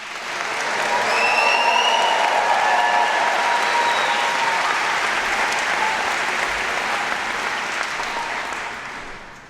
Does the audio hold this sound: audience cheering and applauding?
yes